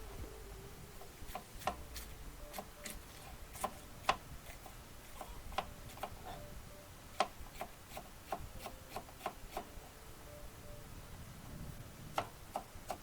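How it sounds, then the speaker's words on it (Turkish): A knife chops food into small pieces for chickens, giving faint, irregular, sharp taps against a quiet background over about thirteen seconds. "Bu yüzden bu şekilde iyice küçültüyorum, parçalıyorum. Bıçakla doğrayarak."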